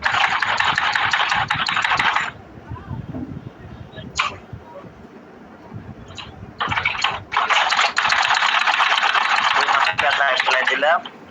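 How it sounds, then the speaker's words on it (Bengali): A sewing machine stitches the seams of trouser-style pajamas in two long, loud, steady whirring runs separated by a quieter gap, and a voice speaks briefly during the pause. "এই মাথা সহকারে সেলাই দেবো"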